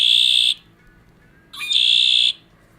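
A toy imitating a red-winged blackbird sends out two bright, shrill, buzzy whistled calls, loud and near, the first already sounding at the start and the second after a short pause, with no talking over them.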